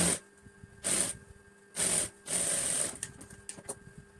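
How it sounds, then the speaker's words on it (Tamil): Sewing machine stitching a folded hem on a boat-neck blouse lining, running in short loud bursts with pauses between them, close up, with no talking. "கீழே நம்ம மடிச்சு அடிச்சு எடுத்துக்கலாம்."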